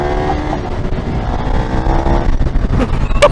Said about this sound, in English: I love this bike. This is a road model KTM.